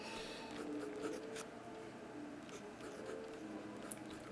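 A pen scratches across paper at a desk while working out resistor values for an electronics kit, a faint steady writing sound with small strokes and taps, close and quiet, with no talking.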